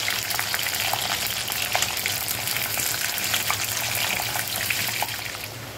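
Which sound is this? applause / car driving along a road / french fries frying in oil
french fries frying in oil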